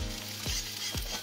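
Egg masala frying in a kadhai: a steady, close hiss of sizzling oil with two quick stirring scrapes through it, no voices.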